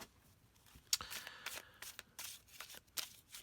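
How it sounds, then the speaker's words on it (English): Tarot cards being shuffled by hand, a quiet, close series of brief riffling flutters and soft slaps in irregular bursts, with no talk over it. "So I'm not going to shuffle as much."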